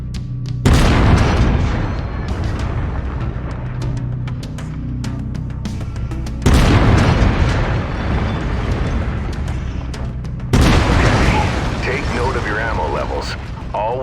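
An autocannon fires three heavy booming bursts in MechWarrior 5, each a loud sharp blast followed by several seconds of rumbling, clattering mechanical decay.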